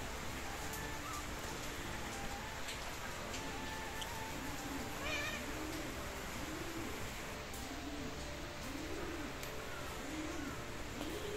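Cats meow repeatedly on a rainy day, several drawn-out mewing calls rising and falling over a steady wash of rain, with pigeons cooing softly nearby at moderate distance.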